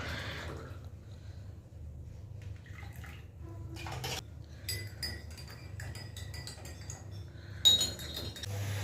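A spoon clinks and scrapes as sugar is stirred into several cups of tea in a home kitchen, with light metallic taps and a sharper clink near the end over a steady background hiss.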